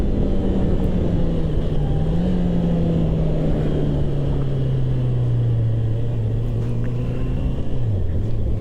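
A motorcycle engine drones steadily while riding the mountain road through the Serra de Teresópolis, its pitch sagging and rising slightly with the throttle under a constant wind rumble.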